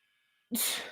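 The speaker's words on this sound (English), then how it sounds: "I have to sneeze, but it won't come out." A single short, breathy sneeze bursts out after a faint hum, sharp at first and trailing off quickly, close and fairly loud.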